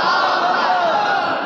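A large crowd roars the Takbir slogan in unison in reply to a call, a loud, sustained mass shout of many voices filling the whole moment.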